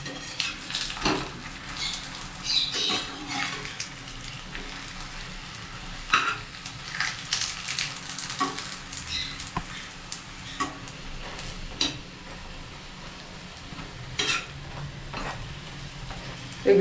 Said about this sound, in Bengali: গ্যাসটা একদম লো ফ্লেমে করে ভাজবেন।